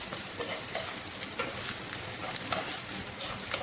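Red onion sautéing in a pan gives off a steady, close sizzle and crackle with faint stirring scrapes and no talk.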